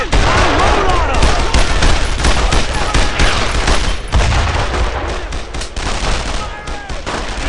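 Dense, sustained gunfire from World War II weapons in Brothers in Arms: Road to Hill 30, with rapid overlapping rifle and machine-gun bursts that stay loud and close throughout, mixed with shouted voices.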